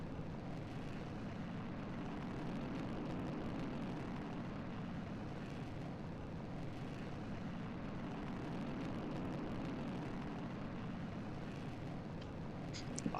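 A rocket engine launch in the Kerbal Space Program video game, heard as a continuous, loud, broadband roar that holds steady for the whole stretch without pauses.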